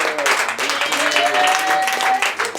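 Church congregation at a Pentecost service applauding loudly, with dense continuous clapping and voices mixed in.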